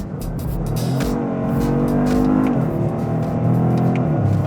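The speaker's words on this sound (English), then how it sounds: "how quickly it can get to 60 miles per hour from a dead stop" Toyota GR Corolla with the automatic gearbox accelerates hard from a standstill, its engine note climbing through the rev range and dipping briefly at a quick upshift before pulling again, loud and steady with no talk over it.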